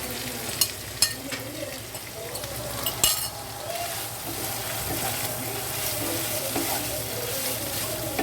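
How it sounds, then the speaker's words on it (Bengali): Chicken sprinkled with black pepper stir-fries in a pan with a steady sizzle, and a spatula scrapes and clinks against the metal now and then, close and continuous throughout. "এবার এভাবে একটু করে বারবার করে একটু রান্না করে নেব কষিয়ে নেব"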